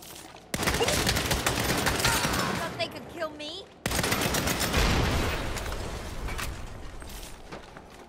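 Heavy gunfire in the video game Saints Row, dense loud bursts of rapid shots filling nearly the whole stretch with a brief pause midway, and a voice briefly audible under the shooting.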